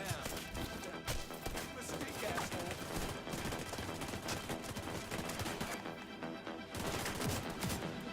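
Shotgun blasts in the shooter video game The Division 2 go off in rapid, repeated bursts, loud and near, layered over busy combat effects with no clear breaks.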